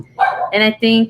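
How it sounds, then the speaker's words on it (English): A pet dog barks in a room with three close, loud, sharp yaps in quick succession while a person talks at the same time. "sorry about my dog."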